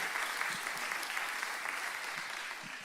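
A church congregation applauds together, a dense, even clatter of clapping from many hands that holds steady for a few seconds at moderate distance, with no voices rising above it.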